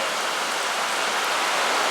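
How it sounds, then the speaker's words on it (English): Rain drums steadily on a tin roof over a garage workshop, a dense, continuous, fairly loud hiss with no breaks and no speech. "As you can tell by the sound of rain on a tin roof"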